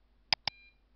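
A computer running a Visual Basic program gives two short, clean electronic beeps in quick succession, faint and isolated in an otherwise silent room.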